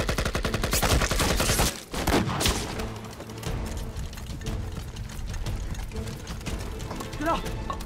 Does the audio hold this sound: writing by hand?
no